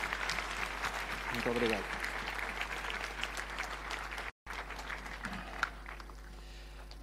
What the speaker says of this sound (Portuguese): Eu pedi uma grande salva de palmas para o João, por favor.